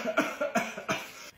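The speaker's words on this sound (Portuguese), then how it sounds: "Tipos de pessoas tossindo." A person coughs in a quick run of four harsh, close coughs, each a short bursting hack with brief gaps between, with no other sound around them.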